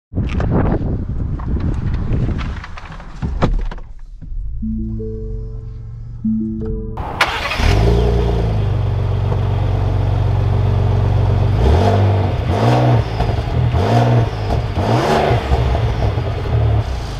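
A 2021 Lincoln Navigator pulls away and accelerates with a loud, rising engine revving close by, following a brief quieter stretch of engine hum and clatter.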